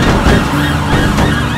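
Police car siren in an SPPD chase game, wailing steadily and loud alongside engine and road noise, with no talk over it.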